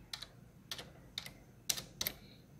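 Computer keyboard keys tapped in five short, separate bursts of crisp clicks, close up, with quiet pauses between them and no talking.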